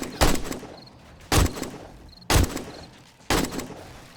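Gunfire from the survival horror game 7 Days to Die during a night horde: four loud, sharp shots spaced about a second apart, each with a short decaying tail, and no talking.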